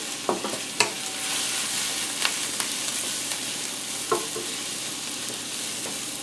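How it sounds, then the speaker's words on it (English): Mushrooms sauté in butter with onions and garlic in a pan, a steady soft sizzle broken by a few sharp knocks and scrapes of stirring. "Let's add the mushrooms. Saute these in with the butter."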